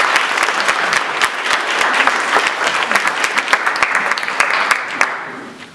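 Audience applause follows a candidate's introduction at a congressional district candidate forum in Mariposa, California, with dense steady clapping from a crowd that holds loud throughout before thinning at the very end.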